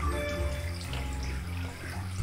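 Water runs from a tap in a hidden object puzzle game as a steady, close splashing stream with soft gurgles, sitting over a low humming music bed.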